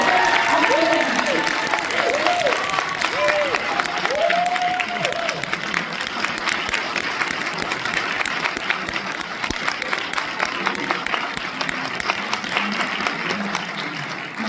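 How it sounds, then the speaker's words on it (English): Sustained audience applause fills a PhD defense hall after a doctoral title in health sciences is conferred, steady clapping throughout with some voices and cheering mixed in. "Big applause for"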